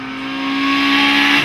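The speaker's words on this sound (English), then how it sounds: "as he exits Ashes, the limited slip diff takes over and pulls the car across the road in typical Mini style" Mini racing car at the Gurston Down speed hillclimb, 2008, exiting a corner with its limited-slip differential pulling across the road, engine note rising steadily in a loud, close, high-pitched rasp.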